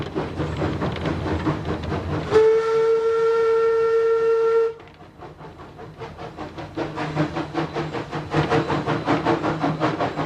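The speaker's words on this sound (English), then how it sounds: "There's nothing quite like the effect of steam in a tunnel." A steam train on the Zig Zag railway runs through its longest tunnel, the whistle blowing a sustained tone for a couple of seconds before the engine's rhythmic chuffing echoes loudly in the enclosed space.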